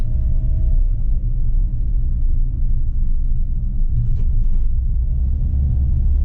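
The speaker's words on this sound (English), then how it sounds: "Driving around." A small Japanese kei car drives along a narrow residential road, its engine and tyres giving a steady low rumble throughout, close and loud inside the cabin, with no talking.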